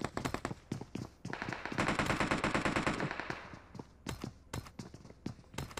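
Bursts of automatic gunfire in the mobile battle royale game PUBG Mobile, rapid rattling volleys with a sustained burst in the middle and scattered single shots after, fairly faint.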